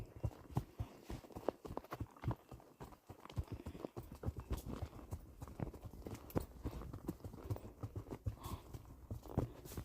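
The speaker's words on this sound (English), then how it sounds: "We're going to walk this." A horse walks along a narrow lakeside trail, its hooves clip-clopping in an irregular steady rhythm close by, with soft rustling between steps.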